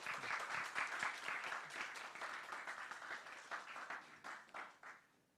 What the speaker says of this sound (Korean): 다들 박수 한번 쳐주실 수 있을까요?